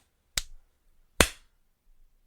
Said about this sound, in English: That was a weak clap.